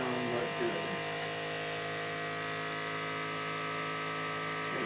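A shop vacuum powering a thin-panel vacuum clamp holds a wood panel down for thickness sanding, giving a steady, loud, unbroken whine throughout, with a brief shift near the start.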